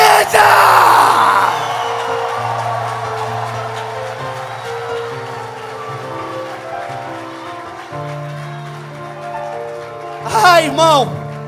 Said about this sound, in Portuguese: Pode aplaudir, igreja!